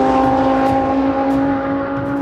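A car is driven hard on the SpeedVegas track, its engine holding a loud, steady, droning roar with strong tonal whine for the whole stretch, close and unbroken.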